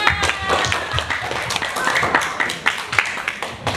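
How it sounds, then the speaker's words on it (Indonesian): Students clapping in a classroom after a filtration lesson, a dense patter of many hands at fairly close range with voices murmuring over it. "kasih tepuk tangan dulu untuk semuanya"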